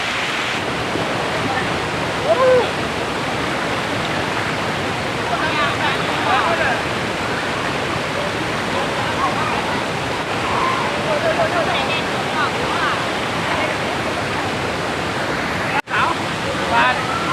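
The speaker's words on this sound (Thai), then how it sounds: "เราก็ได้มาถึงน้ำตกแล้วครับ" A waterfall pours with a loud, steady, broadband rush that continues unbroken for over seventeen seconds, with faint voices occasionally rising above it.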